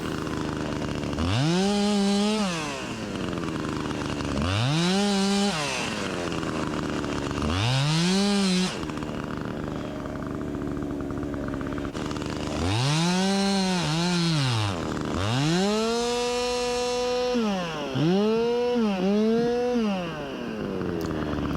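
A Husqvarna 372XP chainsaw with a freshly adjusted high-speed screw revs up repeatedly in loud bursts, rising and falling between idle, sometimes in quick double revs, close up and without speech.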